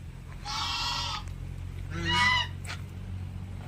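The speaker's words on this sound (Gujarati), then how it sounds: "ઘણા બધા બતક છે એ અહીંયા છે." Ducks call out in two loud, nasal honking bursts a moment apart, close by, over a low outdoor hum.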